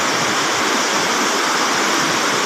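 Steady, loud rush of flowing water at Villa Aurora, a continuous broadband wash with no pauses and no voices.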